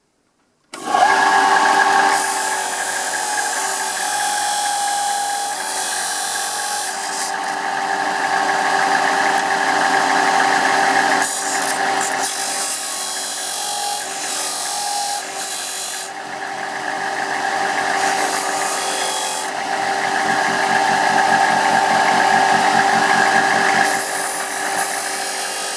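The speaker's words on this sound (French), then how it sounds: "on va poncer de l'autre côté" A wooden guitar pick is pressed against a powered sanding disc. The motor keeps up a steady, loud whir with a grinding rasp that rises and eases as the pick is worked, continuous for about twenty-five seconds.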